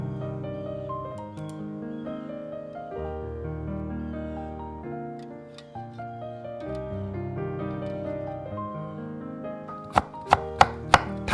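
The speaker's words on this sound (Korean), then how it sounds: "당근을 가늘게 채 썰고" A knife cuts carrot into thin julienne strips for black rice gimbap. A few quick, sharp chops come near the end, standing out against steady melodic background music.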